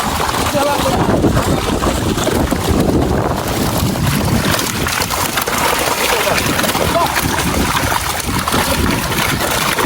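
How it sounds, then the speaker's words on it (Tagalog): Strong wind roars steadily and loudly, buffeting the microphone without pause. "Grabe, mahangin sa labas."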